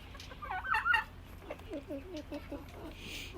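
Young backyard chickens hatched from the family's hens give soft, faint clucks and peeps in short bursts, close to the microphone in a quiet setting.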